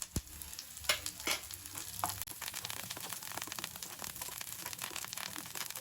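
Sliced onions and curry leaves sauté in a hot pan, a steady soft sizzle broken by several scraping stirs of a spoon. The sound is close, fairly quiet, with no speech.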